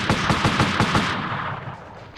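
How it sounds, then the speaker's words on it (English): Rapid automatic gunfire from the Army Men war video game targets an aircraft: a loud, close burst of about eight evenly spaced shots that trails off into a fading rumble, with no one speaking. "This guy's trying to shoot down that aircraft."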